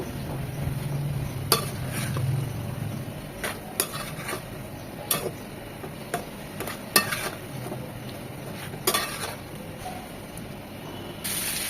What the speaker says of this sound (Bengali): মশলাটা ভালোভাবে কষিয়ে নিয়ে আমরা যে বেগুনটা ভেজে নিয়েছিলাম সেটা দিয়ে দিচ্ছি